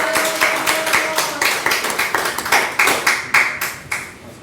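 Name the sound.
audience applause welcoming a speaker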